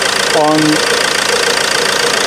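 A Ford Transit Connect 1.8 TDCI diesel engine runs loud and steady at idle just after a fuel filter change, with a dense continuous clatter and someone speaking briefly over it.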